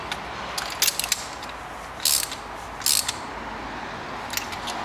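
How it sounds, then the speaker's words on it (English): A hand ratchet tightens spark plugs on a Volkswagen Golf 1.4 petrol engine, giving a few short bursts of rapid clicking separated by pauses, close and clear. "As you can see, I'm not using the full force of the ratchet."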